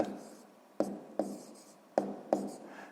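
Pen writing an answer during a sixth-grade math exercise, heard as several short, distinct scratching strokes in an irregular rhythm, close and quiet, with no talk over them.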